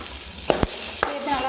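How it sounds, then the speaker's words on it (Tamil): Onion and tomato sauté in a pan with a steady sizzle, and a utensil scrapes and stirs in a few sharp strokes close by. "வதக்கணும்"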